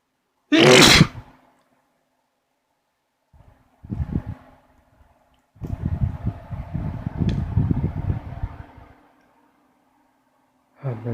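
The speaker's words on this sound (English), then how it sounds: "I gotta sneeze." A wet, messy sneeze bursts out loud and close at the start, followed by snuffly breathing and rustling, with a second sneeze onset at the very end.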